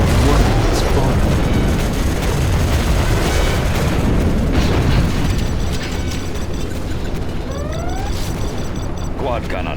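Rumbling explosions and booms from a nuclear missile launch in Command & Conquer: Generals Zero Hour roar continuously and loudly, with game voice lines and electronic effects layered on top.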